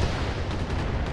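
Mech weapons in the BattleTech video game roar as one dense, loud blast of fire that fills the whole moment without a break.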